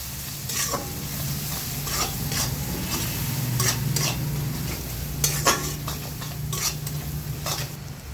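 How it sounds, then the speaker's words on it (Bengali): Chili powder, turmeric and spices stirred in a frying pan with a utensil, steady oil sizzle underneath and repeated scraping strokes in an irregular rhythm, close and moderately loud. "লঙ্কা গুঁড়ো দিয়ে দিলাম, অল্প নাড়িয়ে নিচ্ছি।"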